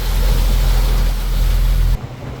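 A boat travels down the Mekong river, a loud steady rush of water and engine wash with wind buffeting the microphone, dropping abruptly near the end; no voices.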